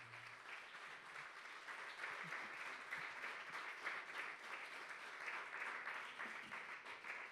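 Steady, sustained applause from a conference audience at a round-table event on the 2025 Universal Exhibition, the clapping dense and even throughout with a faint voice briefly at the start.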